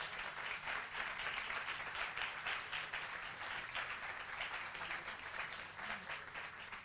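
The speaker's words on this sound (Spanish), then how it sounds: "Un aplauso, por favor." An audience at a cultural talk-show event applauds two writers, a fairly faint but continuous spread of many hands clapping at an even level throughout.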